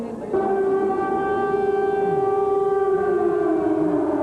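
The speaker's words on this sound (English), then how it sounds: "The siren's just beginning here in downtown Tel Aviv" A civil defense air raid siren wails in downtown Tel Aviv, switching on abruptly and holding a steady, loud rising-and-falling tone that stays strong and continuous throughout, with no talking.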